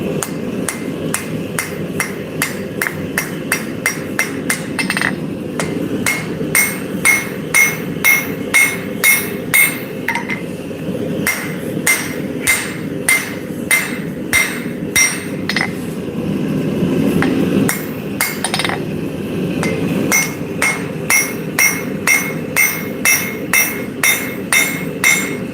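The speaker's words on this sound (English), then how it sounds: "you might need to switch over to the bigger rounding hammer" A rounding hammer strikes a blade being forged on an anvil, with steady ringing metallic blows repeated in quick runs and short pauses, loud and close, with no talking.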